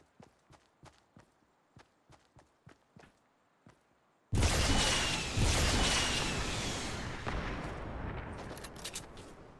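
Gunfire in the Fortnite battle royale game: a run of sharp, evenly spaced single shots, then a sudden loud, dense burst of sustained firing and noise that slowly fades.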